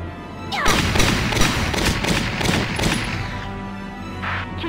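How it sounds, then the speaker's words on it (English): Gunfire in the Valkyria Chronicles video game, a loud burst of rapid shots and crashing impacts right at the start, then a sustained rattle of fire that slowly fades, with no one speaking. "Keep a watch for gunfire from atop the cliff."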